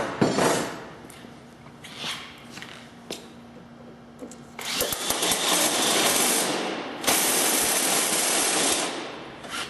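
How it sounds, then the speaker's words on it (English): A power drill with a simple bit bores through a metal rib inside a car door, starting with short bursts and light taps, then winding up into sustained loud whirring grind before breaking through; no talking. "We'll pull out our simple bit and we'll drill that final rib."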